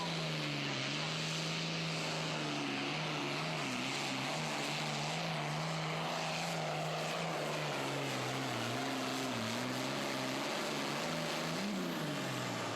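Super farm tractor at a pull in Terre Haute, Indiana, its engine roaring as a loud, steady drone with shifting pitch throughout, no talk heard.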